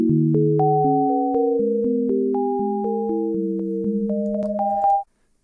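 Sonic Pi synthesizer plays a run of clean electronic tones at shifting random pitches, some louder and some softer, stepping along steadily for about five seconds before stopping abruptly, with no talk.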